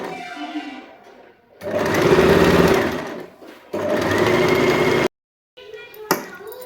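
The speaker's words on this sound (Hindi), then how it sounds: "दोनों साइड में बराबर से सिलाई लगा लेंगे।" A sewing machine stitches the side seams of a dress made from a saree, running in two loud close bursts of rapid whirring with short pauses and fabric handling between them.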